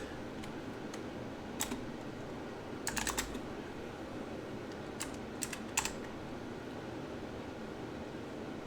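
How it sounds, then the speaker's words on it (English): Scattered bursts of keystrokes on a computer keyboard, typing a message in a chat app, fairly faint over a steady background hiss with long quiet gaps between short clusters of taps. "get on the Discord app right now and get ready to type in my exit"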